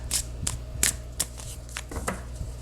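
Tarot cards are shuffled and drawn, a run of crisp, quick flicks and snaps at an uneven rhythm over a quiet low hum, close and fairly soft, with no voices.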